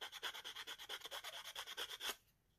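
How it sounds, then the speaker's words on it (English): Sandpaper rubs back and forth over rough overflow edges on hardened resin coasters, about sixteen quick, even rasping strokes close up, then stopping. "I'm just sanding off any little rough edges, you know, where I've overflowed a little bit"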